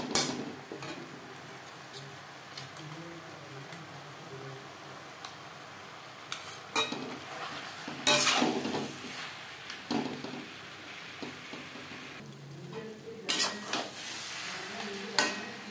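Potatoes, onion and tomato mixed with spices in a pan give intermittent scraping, tapping clinks of a spoon against the metal pan, with quieter stretches between louder bursts.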